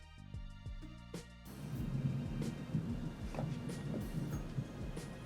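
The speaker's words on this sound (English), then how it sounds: "That's thunder, if you heard it." Deep rolling thunder from a storm outside rumbles in and keeps grumbling, loud and broad, with a rain-like hiss mixed in after a short quieter opening.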